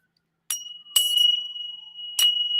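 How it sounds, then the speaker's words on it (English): A desk bell is struck three times, each a bright metallic ding with a sustained ringing tone, the first two close together and the third after a pause, in a quiet room. "The memory of the original bell makes me smile. I have it on my desk."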